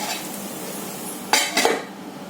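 A lid closes on an appe pan of frying appe, giving two quick metallic clinks close by over a faint steady sizzle, with no voices.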